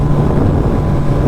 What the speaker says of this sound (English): I'll say it's really windy